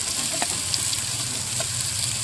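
Chicken and okra (bhindi) hitting a hot pan, a steady close sizzle of frying with a couple of soft stirring clinks, no voice over it.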